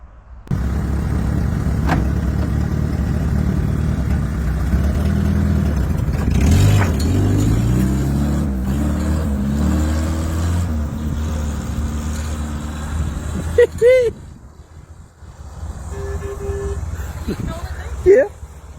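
Engine of a 1935 Austin 7 Ruby car, restored after sitting for 45 years, runs steadily with a low rumble for most of the stretch, then cuts off near the end, with people talking nearby.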